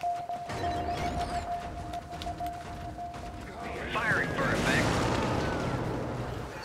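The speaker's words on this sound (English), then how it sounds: "Strafing run took out that patrol." A video game strafing run air strike rumbles in the distance, then swells into a louder cluster of blasts and crackling bursts, with a player talking over it.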